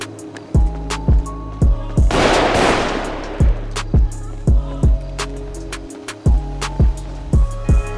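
Rapid automatic gunfire in the video game GTA 5, loud repeated bursts of shots with a brief roaring blast in between, continuing in steady rhythmic volleys.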